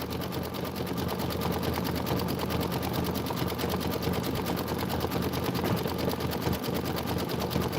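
A Kimberbell embroidery machine stitching steadily, a fast even mechanical whirring and needle chatter that stays constant throughout, close and alone.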